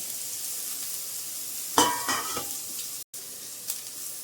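Carrot pieces and chillies frying in oil, a quiet background sizzle broken by a burst of stirring and scraping near the middle, then settling back to a low hiss.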